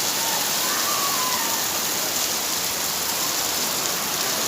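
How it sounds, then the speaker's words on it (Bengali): Heavy rain pours down in a steady, dense roar with no breaks, loud and close. "আমার এলাকায় তো আলহামদুলিল্লাহ আজকে মুষল ধারায় বৃষ্টি হচ্ছে"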